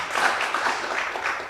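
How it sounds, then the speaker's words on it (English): An audience gives a round of applause for Hannah Munyasi at a changemaker gathering, a brief, moderately distant wash of clapping with no voices over it. "A round of applause for her."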